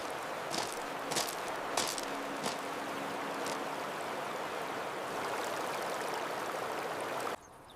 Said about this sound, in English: See how the water follows the trenches, protecting the structure.